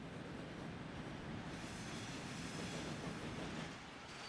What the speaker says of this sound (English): So there is our train over there, turns around, it's gonna come back.